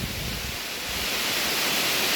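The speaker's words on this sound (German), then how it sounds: "Einer der breitesten, nicht der höchsten, aber der breitesten Wasserfälle." A wide jungle waterfall of clear, cold water rushes as a steady, loud, broadband roar with no talk over it.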